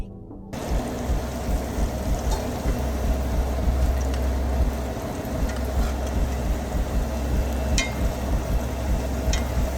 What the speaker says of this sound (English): we're gonna let this steak cook, man